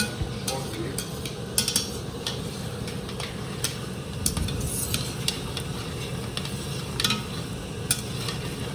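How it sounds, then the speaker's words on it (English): A short rib braise with red wine simmers and sizzles in a pot while the alcohol cooks off, a steady bubbling hiss with scattered sharp pops and light clinks of utensils throughout. "I'm going to cook off the alcohol for a couple of minutes."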